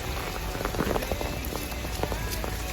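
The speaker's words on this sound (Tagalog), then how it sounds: "Ang lalaki ng patak ng ulan." Heavy rain of large drops patters steadily on a surface, a dense, continuous drumming close by with no voices.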